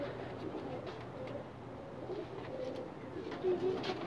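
A pair of prized-breed pigeons coos softly in low, murmuring phrases against a faint background hum, with no talking.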